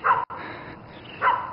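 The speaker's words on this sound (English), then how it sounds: "There's a dog in there." A dog gives two short barks or yips, close by, separated by about a second of quieter background, with no talk over them.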